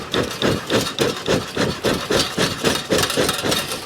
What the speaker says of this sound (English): You can just hear the flames in that.